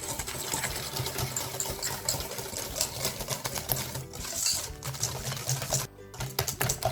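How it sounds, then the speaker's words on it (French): Eggs and sugar being whisked hard in a bowl, a dense, fast, steady rattle of the whisk against the bowl that runs unbroken for several seconds, close and fairly loud, with no talk. "Et on va bien fouetter."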